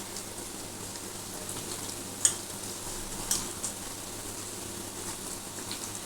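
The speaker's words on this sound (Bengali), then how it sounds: "এবার দেখো, আমার পেঁয়াজটা মোটামুটি ভাজা হয়ে গেছে।" Onions fry in a pan with a soft, steady sizzle, broken by a couple of sharp utensil clicks from stirring, quiet and close, with no talking.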